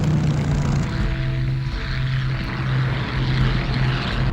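Steady loud drone of Arado reconnaissance seaplanes in flight, a continuous propeller engine hum without pause, with no talking.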